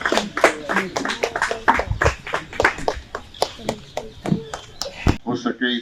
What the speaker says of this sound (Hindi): खड़े होकर तालियां बजाएं